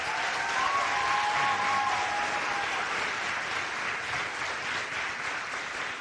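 An audience claps at a conference: dense, even applause from many hands that holds at a steady level throughout, with no voices on top.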